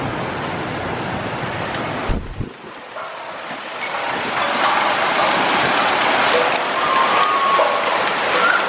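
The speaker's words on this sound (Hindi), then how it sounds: "क्या भयंकर ओले पड़ रहे हैं ऊपर, बहुत तेज़ बारिश आ रही है" Heavy rain with hail roars continuously, with a dense hissing wash and rattling hits, briefly dipping before surging louder again.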